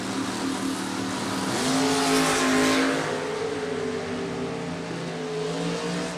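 A Mustang and a Camaro door-car drag race down the strip, a loud sustained roar of engines rising and passing close, with no voices over it.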